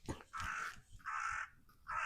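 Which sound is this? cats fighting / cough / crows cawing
crows cawing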